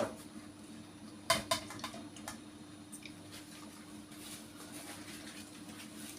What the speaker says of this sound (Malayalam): ഒന്ന് അരിഞ്ഞെടുത്തോട്ടെ കേട്ടോ.